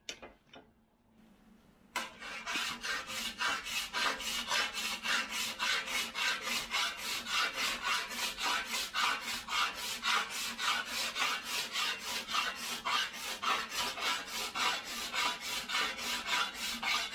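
A file rasps back and forth across dented chrome bumper metal in steady, even strokes after a short quiet start, a rhythmic scraping that continues without pause.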